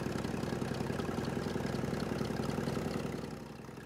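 A Massey Ferguson MF595 tractor engine runs at a tractor parade before a pulling event, a steady low diesel throb with a fast regular pulse. It sits at moderate distance and fades slightly at the end.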